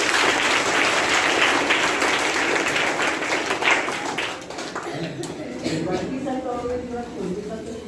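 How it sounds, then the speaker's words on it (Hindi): An audience claps for an aspiring singer at a talk, a strong burst of applause that fades away midway, after which a voice speaks over scattered lighter sounds. "इनके लिए जोरदार ताली होनी चाहिए"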